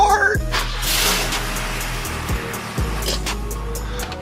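Volvo engine cold-starting: a brief crank, then the engine catching and running with a rough, uneven idle from inside the car.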